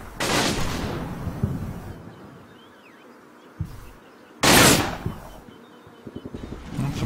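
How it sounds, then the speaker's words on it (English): Bursts of gunfire in the Combat Mission war game aimed at a sniper: two loud, sharp reports several seconds apart, each trailing off, with fainter crackling shots between them and no talking. "And shooting at my sniper again."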